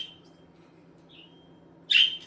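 A pet budgie chirps indoors, giving a couple of faint, thin calls and then one loud, bright chirp near the end over a low steady hum.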